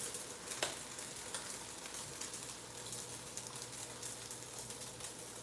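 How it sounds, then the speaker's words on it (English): Vegetables frying in a pan with added water and soy sauce, a steady faint sizzle and crackle with occasional stirring scrapes, quiet and continuous with no talking. "add it to my veggies just so it can steam up"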